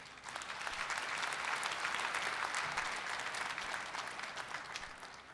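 A large audience at a POSTECH degree ceremony applauds to welcome guests, a dense, steady round of clapping held throughout at moderate distance.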